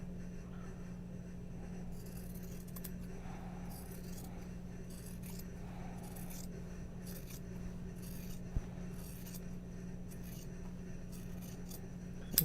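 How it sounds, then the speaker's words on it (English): Scissors snip and scrape through fabric bags with seams during trimming, a soft, steady cutting texture over a constant low hum, with a few faint clicks and no speech. "okay, I'm gonna trim these down."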